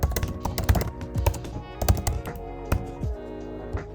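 Close, uneven bursts of keystrokes on a computer keyboard while Java code is typed, with clustered taps separated by short pauses and no speech.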